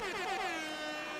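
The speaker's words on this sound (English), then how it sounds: "Whenever the tension was building up, that air horn was there" A single loud air horn blast in a fighting game tournament crowd, a long harsh blaring tone that bends slightly downward before fading out.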